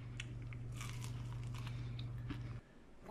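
Crunchy cooked bits are bitten and chewed in a series of quiet, close crackling crunches over a constant low hum that abruptly drops away near the end.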